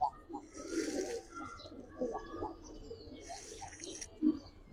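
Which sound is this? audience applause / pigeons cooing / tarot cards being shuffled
pigeons cooing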